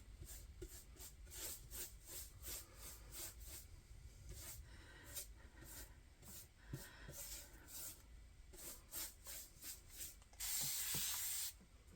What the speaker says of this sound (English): I'm going to spray the brush itself